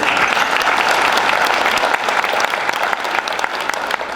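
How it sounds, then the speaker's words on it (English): Sustained applause from a crowd at a Rotary event, steady clapping throughout that thins slightly toward the end, with no voices over it. "Round of applause for the Rotary."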